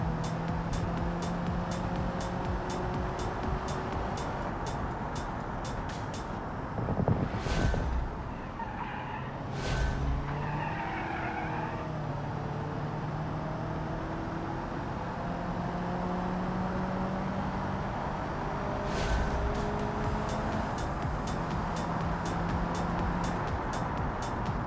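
A race car laps a circuit in a racing simulator, its engine droning steadily with rising and falling gear tones and a few sharp tire squeals through corners, continuous and close.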